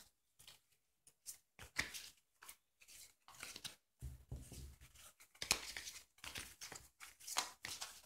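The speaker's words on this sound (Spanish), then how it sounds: "vamos a empezar a barajar las cartas" Quiet, close crisp shuffling and riffling of tarot cards, in irregular bursts of papery flicks and taps separated by short pauses.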